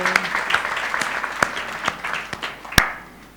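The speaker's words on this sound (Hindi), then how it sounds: "तालियां अंकल के लिए।" Applause from a satsang audience honouring an uncle, a fairly dense patter of many hands with a few sharp louder claps standing out, fading toward the end.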